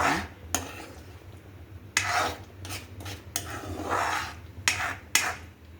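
Tamarind pickle mixture being stirred in a pan, with repeated scraping and rasping strokes of a spoon against the metal and a few sharper knocks, heard close with no talk.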